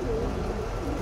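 A breeding pigeon in a loft coos in a low, steady murmur, muffled under a dense, constant background hum, with no voices present.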